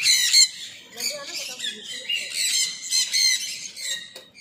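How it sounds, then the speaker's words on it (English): Hungry birds in a walk-in zoo aviary in Indore squawk harshly in quick repeated bursts, shrill and close, overlapping calls rising and falling in loudness with a brief voice in the background. "Hungry little birds."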